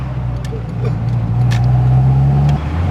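A turbocharged Honda DC2 Type R drones loudly from inside the cabin, its engine note rising steadily with a faint turbo whistle over the hum, and no voices present.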